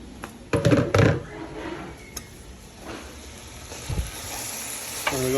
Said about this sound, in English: And we're going to give it a nice stir.